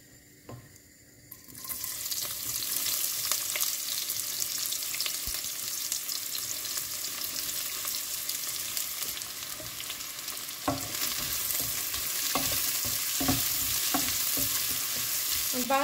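Chicken meat cooking in a pan: after a brief quiet start, a loud sizzle erupts and holds steady, with stirring scrapes and clicks growing busier near the end, no talking.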